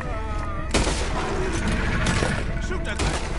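Gunfire in Red Dead Redemption 2 at Shady Belle, a dense loud fusillade of overlapping shots and booms mixed with game noise and a voice shouting during the fight.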